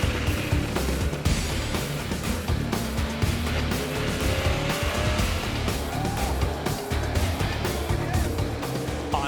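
Stock cars roar through a chicane during a NASCAR race, engines droning and revving steadily with loud, continuous mechanical noise as cars pass, alongside faint tire noise and no clear talk.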